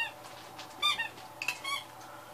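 Old Cub tractor engine with a stuck carburetor gives several short, high, near squeaks as it turns over, with quiet gaps between them.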